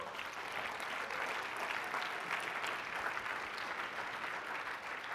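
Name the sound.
audience applause for the events team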